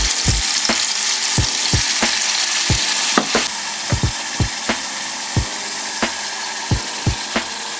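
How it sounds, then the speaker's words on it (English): Beef sizzles loudly in hot oil, a constant crackling hiss broken by regular clicks and taps, like a utensil stirring in the pan. "Add the meat in. Hear that sizzle."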